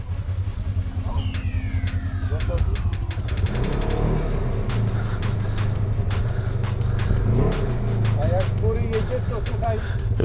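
A Polaris RZR side-by-side idles and revs in a loud, close rumble with rising and falling engine tones, while people talk over it.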